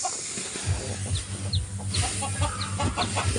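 Chickens cluck continuously inside a chicken coop on a farm, several birds producing repeated rhythmic clucks and a few higher calls over a steady hiss of background noise, close and moderately loud.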